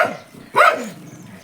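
Shanti aunt's dog barks at a visitor in a mountain village, one sharp close bark after a faint yip, then fading quiet.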